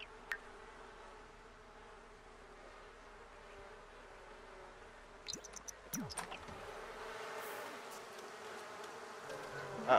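Faint, soft buzzing of bees in The Sims 4 hums steadily in the background, with a few brief clicks and rustles partway through.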